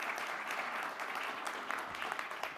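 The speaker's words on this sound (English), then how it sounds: "Can we give a round of applause for our panelists here?" An audience at a space exploration panel event applauds the panelists, a short, distant burst of steady clapping heard faintly throughout.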